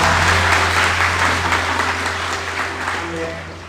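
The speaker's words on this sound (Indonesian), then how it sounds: "Tepuk tangan buat Tuhan kita" Church congregation applauding at a GBI service, a steady wash of many hands clapping that holds loud and then slowly fades, with a low hum running underneath.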